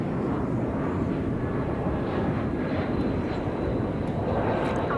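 A Viva Aerobus Airbus A320 from Guadalajara approaches Dallas-Fort Worth, a steady, even rumble of jet noise holding throughout without speech.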